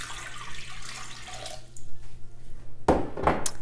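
Twelve ounces of lukewarm water poured into a container for breadstick dough, a short splashing gush near the end after quiet kitchen handling.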